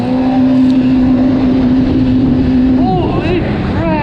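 Yamaha GP SHO personal watercraft engine screaming at full RPM, a loud sustained high-pitched drone close to the rider, dipping slightly near the end as a voice exclaims over it.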